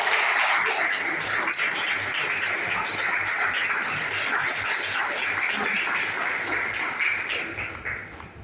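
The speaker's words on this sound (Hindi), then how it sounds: "आप सभी लोगों ने जोरदार तालियां।" An audience at a business training meeting in Thane claps loudly and steadily for several seconds, the applause holding then fading toward the end.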